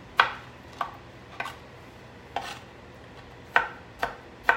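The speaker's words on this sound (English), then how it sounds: "So I'm just going to chop up some tomatoes just so they don't burst" A knife chops cherry tomatoes on a board, giving seven sharp, moderately loud cuts at uneven intervals with short quiet gaps between them.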